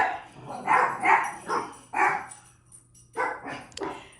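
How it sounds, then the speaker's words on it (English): Dogs bark indoors in a home kitchen, giving a series of loud, close barks in quick bursts with a short pause before a final pair. "excuse my dogs"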